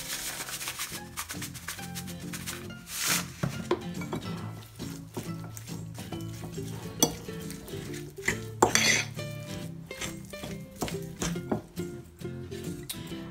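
Sausage roll filling is stirred in a bowl, with a utensil clinking and scraping against the dish in an uneven, close rhythm of soft knocks and occasional sharper clinks, without talk.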